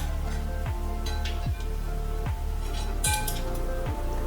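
Metal utensils clink and scrape against a plate and pan while clam pasta in white wine is transferred, with several distinct knocks spaced about a second apart over a steady background hum.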